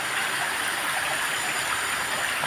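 A river stream flows with a steady, close, broadband rushing of water, constant and even throughout with no voices.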